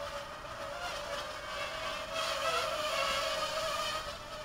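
A Parrot Mambo mini drone flies nearby, giving off a steady, thin, insect-like buzz that wavers slightly in pitch and holds for several seconds with no voices.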